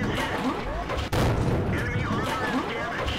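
A T71 tank's autoloader gun firing in World of Tanks: one sharp, loud shot near the middle, followed by a booming rumble over ongoing battle noise.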